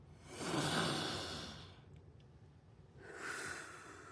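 Breathing in through a nebulizer mask gives a long, airy inhale followed by a quieter pause, then a second soft, hissing breath close to the microphone.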